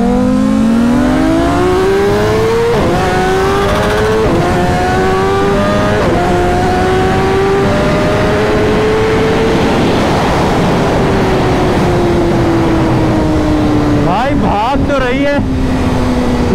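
A BMW S1000RR sport motorcycle accelerates hard in a drag race, its engine note climbing steadily in pitch with brief dips at quick shifts, loud and close throughout, ending in a rough burst of wind and engine noise.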